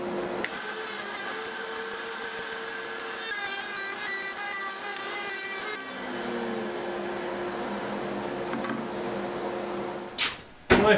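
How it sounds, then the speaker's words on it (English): A router table fitted with a straight bit runs with a steady, high motor whine and hum, close and continuous, changing pitch slightly midway as if under load, then ending with a few clunks. "Got my disposable router table here setting up with a straight bit in"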